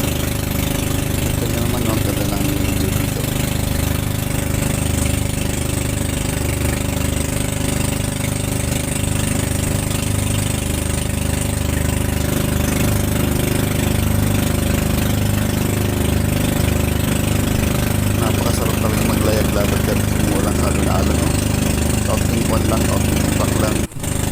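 A motorboat engine runs steadily throughout on a calm, waveless sea, a loud constant droning hum with no break.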